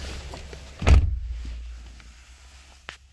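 A single solid door thunk lands near the middle as someone climbs into a 2017 GMC Sierra pickup, followed by low cabin rumble and a brief sharp click near the end, close and without speech.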